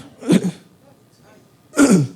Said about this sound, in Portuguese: O pigarro quer pregar.